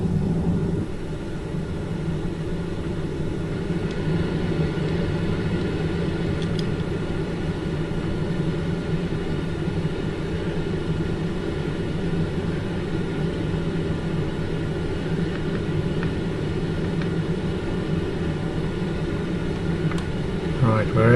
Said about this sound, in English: I'm using the test version of the aircraft. Okay, we'll take off.